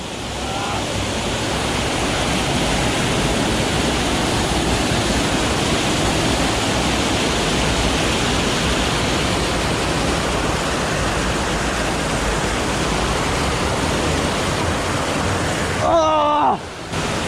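A waterfall in Koh Chang roars as a loud, dense, steady rush of falling water, continuous throughout, with a brief burst of voices near the end.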